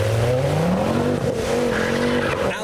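A modified Ford ST pulls away in heavy rain, its engine note rising loud and close over constant hiss of spray and wet tyres, with a brief squeal-like edge as it accelerates.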